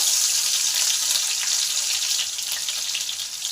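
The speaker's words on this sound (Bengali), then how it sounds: "তেল গরম হলে তেলে দিলাম কাঁচা লঙ্কা কালো জিরে কাঁচা লঙ্কা" Green chillies and nigella seeds hit hot oil in a loud, dense, hissing sizzle that stays strong and close, easing slightly toward the end.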